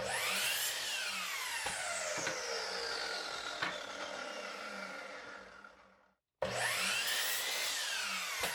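Power saw cutting pieces from a 2x4 board, a loud close whine that sweeps down in pitch as the blade bites into the wood, then cuts off into brief silence before another cut starts.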